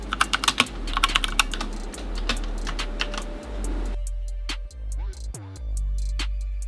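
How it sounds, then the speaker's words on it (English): Close-up typing on a Redragon 60% mechanical keyboard: quick bursts of crisp keystrokes, then sparser clacks over a low hum. "The Red Dragon sounds and feels very, very smooth."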